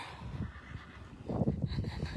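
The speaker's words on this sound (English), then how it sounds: "I love this horse right here." A horse nearby snorts and whinnies with low, breathy rumbles, alongside shuffling and faint clip-clop movement.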